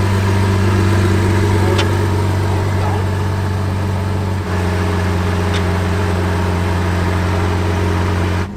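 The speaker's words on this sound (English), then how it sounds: "I love the sound of this car." Hybrid Lamborghini engine running at a steady, smooth idle with a low constant hum, close and continuous throughout with no revving.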